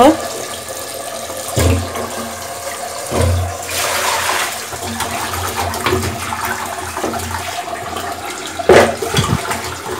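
Tap water runs over cut pumpkin pieces being rinsed in a home kitchen, a continuous splashing stream punctuated by a few sharper knocks and thuds as pieces are handled, with a voice talking faintly in the background.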